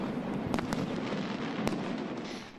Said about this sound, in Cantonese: 璀璨煙花祝賀德國成為今屆世界盃得主